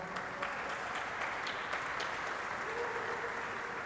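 Sustained applause from an audience at a formal ceremonial session, heard from a distance and fairly faint, even and continuous across the clip.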